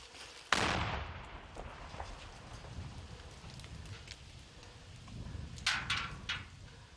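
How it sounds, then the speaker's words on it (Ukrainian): Sniper gunfire in a war zone among ruined buildings: one sharp crack rings out early, followed later by a quick cluster of several more cracks, fairly distant and quiet against a faint rustling background. "На рух снайпер миттєво реагує."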